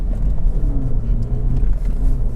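A Mini Cooper S F55 driving on the road, a steady low engine drone with a faint rising tone as it pulls through the gears, heard from inside the cabin with no talking.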